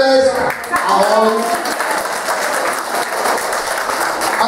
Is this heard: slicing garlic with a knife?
no